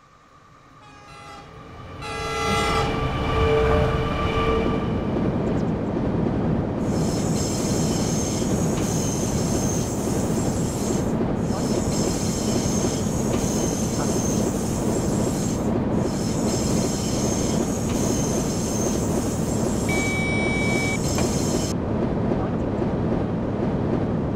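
Simulated BR 189 electric locomotive hauling 25 loaded chemical tank wagons in a train simulator game: a steady, loud rolling rumble with high squealing tones that cut in and out, and a brief horn-like tone near the end.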